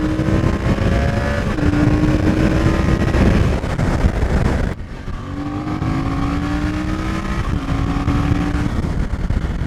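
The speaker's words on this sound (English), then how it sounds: "Standard tracer exhaust, sounding wicked." A Yamaha Tracer motorcycle with its standard exhaust drones loudly with repeated rising revs and gear changes, steady and close throughout, dipping briefly in the middle before picking up again.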